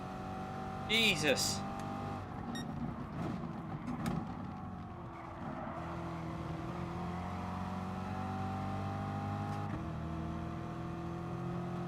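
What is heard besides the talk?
Audi TT race car engine in Gran Turismo Sport video game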